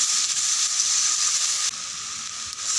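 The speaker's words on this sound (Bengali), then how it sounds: "মশলাগুলো ভালোভাবে নাড়িয়ে নিব, আর একটু জল দিয়ে দিব যেন কড়াইয়ের গায়ে না লেগে যায়" Spices sizzle in a kadai while being stirred for chana ghugni, a steady bright hiss of frying, close and even, dipping a little partway through.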